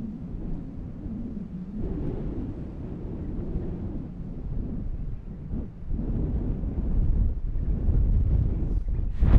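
Strong wind buffets the microphone in open Patagonian country, a continuous low rumbling roar that swells and gusts louder toward the end, with no voices.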